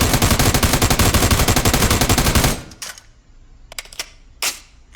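An M4 rifle fires a rapid, loud burst of gunshots at an indoor ceiling from a standing position, then stops, followed by a few scattered sharp clicks and thumps.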